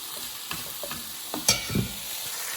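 Sausages sizzling in a pan, a soft steady fry with a few light clicks and scrapes of stirring, heard alone.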